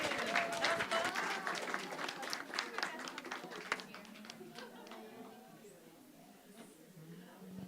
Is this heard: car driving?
no